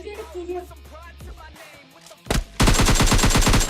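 Gunfire in PUBG Mobile Lite: after a few quieter sounds and a short pause, a single sharp shot, then a loud sustained rapid-fire burst of evenly spaced rounds close by.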